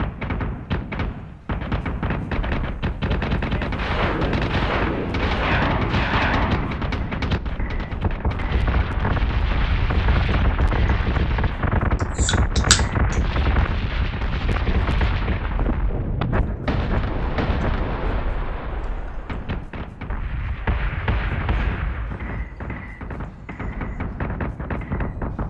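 Missiles fire and explode in a space battle in the Battlestar Galactica Deadlock video game, a dense, continuous roar of rumbling booms and blasts that barely lets up.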